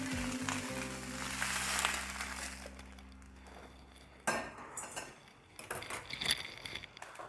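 Metal utensils clink and scrape against a kadhai and plate as fried eggplant is moved onto the plate, a few sharp knocks and rattles over a quiet background hum.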